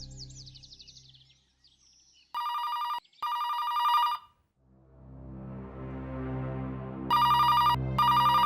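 An electronic telephone bell rings in repeated short bursts, loud and close, separated by brief pauses and a softer chiming tone in between.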